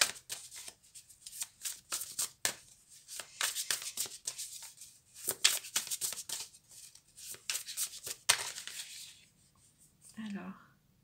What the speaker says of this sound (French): Je vais venir recouvrir avec d'autres cartes.